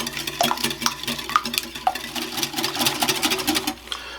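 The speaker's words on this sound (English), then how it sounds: "I'm going to whisk this all together until it is completely smooth." A whisk clinks and scrapes rhythmically against a bowl, beating quiche filling seasoned with salt and black pepper until smooth; close, steady strokes with light metallic taps.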